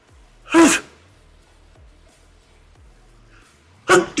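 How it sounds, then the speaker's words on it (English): A person sneezes twice during a casual gaming stream, one loud burst near the start and another about three seconds later, with quiet low hum between. "I gotta sneeze."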